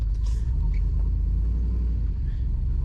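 A V8-swapped car engine idles steadily nearby, a continuous deep rumble holding even throughout with no talk over it.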